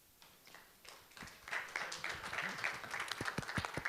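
Applause from a conference breakout session audience building after a quiet start, with scattered claps growing into steady clapping for several seconds.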